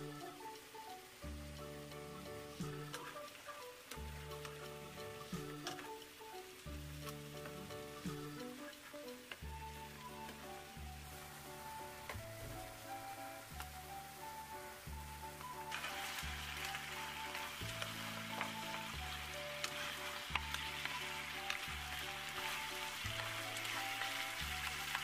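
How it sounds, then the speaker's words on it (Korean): LA galbi ribs sear with a soy marinade in a pan over high heat, giving a quiet, steady sizzle beneath rhythmic background music. "강불로 달궈진 팬에 갈비를 얹어주고 양념 간장물과 함께 구이를 합니다"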